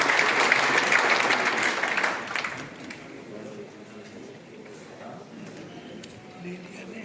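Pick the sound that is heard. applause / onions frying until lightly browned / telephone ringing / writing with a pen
applause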